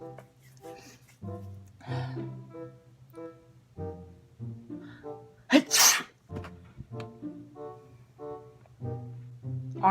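A single loud sneeze bursts out midway through a comedic skit, set between stretches of ordinary back-and-forth conversation that carry on before and after it.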